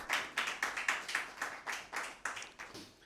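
A small audience at a Christmas poetry mushaira claps in welcome for a professor, with a steady, fairly quiet patter of individual handclaps in an irregular rhythm.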